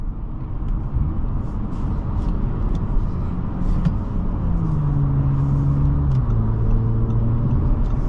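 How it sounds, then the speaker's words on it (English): A 2023 Audi S5 Prestige accelerates hard from inside the cabin, a loud, steady low engine roar with pitch rising through the gears and shifts marked by drops, continuous for eight seconds without talk. "we're gonna do a 0 to 60 test and see how this car accelerates in real life"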